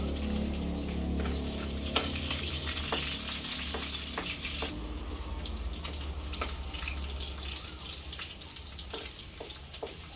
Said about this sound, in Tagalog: Gusto ko po yung bawang ay medyo toasted.